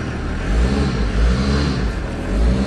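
Diesel caravan engine running with one wheel jacked up, a steady low rumbling idle that rises slightly in brief revs, close and continuous.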